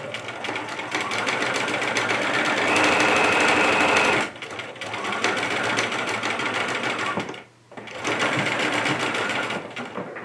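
Sewing machine stitching fabric, running steadily and loudly for about four seconds, pausing briefly, running again, then pausing once more before a final burst, with no talk.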